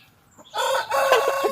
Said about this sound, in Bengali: এটা মোরগ আরেকটা, দেখেন মাশাআল্লাহ অনেক সুন্দর হয়েছে মোরগগুলো।